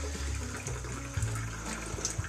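Cool water is poured from a tablespoon into a small mixing container, giving a soft, close trickling and splashing sound that is quiet and steady, with a few brief drips.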